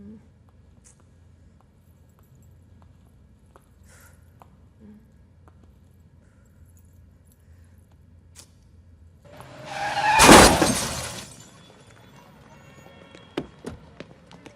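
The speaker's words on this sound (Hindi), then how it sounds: "गाड़ी ठोक दी मेरी" A car crash in a Bollywood romantic comedy scene: a sudden loud broadband smash with skidding swells up around ten seconds and fades quickly, after a quiet stretch, with a few sharp knocks near the end.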